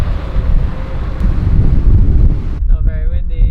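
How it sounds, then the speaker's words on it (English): Strong gusting wind buffets the microphone at Eddystone Point on the Tasmanian coast, a loud roaring rush that drops off sharply near the end, where a voice briefly speaks. "it's very windy out here."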